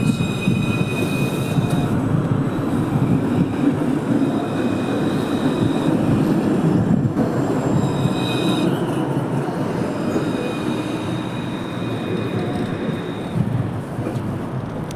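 A Montpellier TAM tram moving at the Mosson terminus, a continuous low rolling rumble of wheels on rail with faint high squealing tones drifting in and out, steady and fairly close throughout with no talk.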